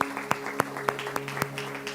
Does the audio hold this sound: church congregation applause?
yes